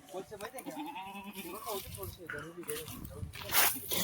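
Kathiawadi milk goats bleating close by in short wavering calls, several overlapping, with people talking around them.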